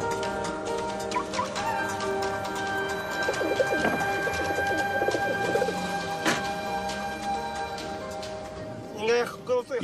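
Racing homing pigeons coo in soft, low bursts among fluttering and scattered clicks, fairly close and continuous, while someone speaks over them.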